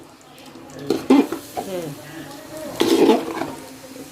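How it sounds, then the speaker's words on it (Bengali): Scraping and clattering of a spoon stirring rice and vegetable khichuri in a large pot, in a few uneven bursts, with a brief spoken word and faint sizzling. "নাড়া দাও।"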